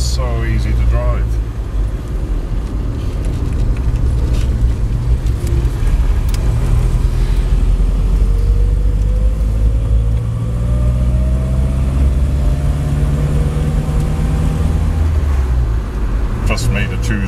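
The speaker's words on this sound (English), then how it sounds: "We're in top gear already, doing 35 mile an hour or thereabouts, and it's just so easy to drive." A 1961 Hillman Minx 111B station wagon cruises in top gear at about 35 mph in Dunedin, New Zealand, its engine a steady low drone with a slowly rising whine beneath continuous talk.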